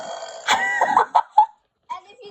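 A girl belches deliberately, several voiced burps in quick succession followed by a short pause and softer sounds, loud and close.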